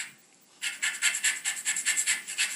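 Orange zest is grated in quick, even back-and-forth strokes, a bright rasping scrape repeated about a dozen times, close up and alone.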